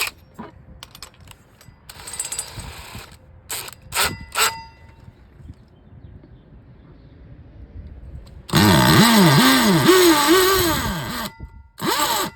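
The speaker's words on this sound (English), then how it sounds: "let's drill this 4 1/2 inch hole" A 4 1/2 inch hole saw cuts through wood for a cocktail arcade table, starting with scattered clicks and short bursts, then a loud, sustained grinding whine with rising and falling pitch for several seconds before stopping.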